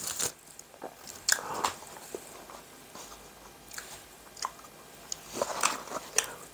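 Close, crisp bites and crunchy chewing on a chicken burger with chicken patty, lettuce and mayonnaise, a quiet mukbang with irregular crackling bursts and soft wet mastication between them.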